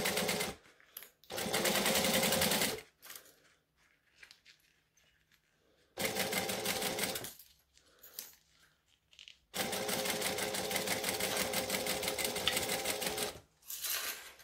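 A sewing machine top stitching fabric runs in several long, loud, fast-chattering bursts with short pauses between them, close by and with no talk.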